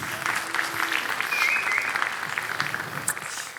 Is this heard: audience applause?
yes